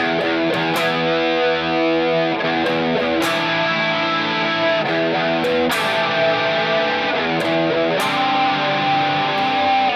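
Distorted electric guitar chords from a song intro, sustained and ringing with several re-struck changes across the passage, loud and without any voice.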